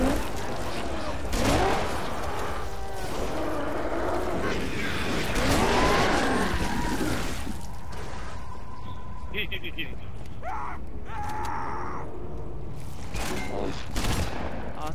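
Shotgun blasts and other weapon fire in the first-person shooter Halo 3 crack out as a rapid series of loud shots over game sounds, with a person talking over much of it.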